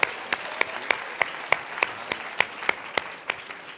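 A small audience claps for keynote speaker James Baden at the DeKalb Small Business Summit, sparse individual hand claps ringing out one by one in a slow, fairly regular rhythm, close and distinct.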